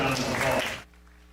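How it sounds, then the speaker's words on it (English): Audience applause at the Zapata County Fair livestock show, a dense spread of clapping that fills the first part and then cuts off abruptly into near silence. "let's give these three young ladies a nice round of applause."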